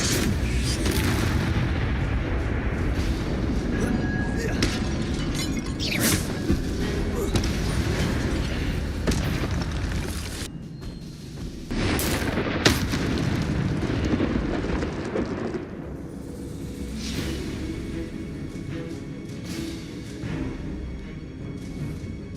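Fire spells blast in combat in Hogwarts Legacy, heavy booming bursts and fiery whooshes repeating over a dense, rumbling battle mix, loud and continuous with brief quieter gaps between salvos.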